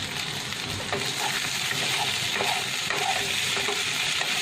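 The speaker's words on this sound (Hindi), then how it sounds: "Give it a good mix." Achari aloo garnished with kasuri methi and coriander leaves, mixed in a hot pan, giving a steady bright sizzle with soft scraping and stirring underneath, close and continuous with no talking.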